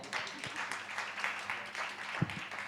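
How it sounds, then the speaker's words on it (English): Audience at a panel discussion event claps in a brief, moderate burst of applause, fairly even and somewhat distant, with a couple of louder thumps near the end. "can we have a big round of applause for all of them one more time?"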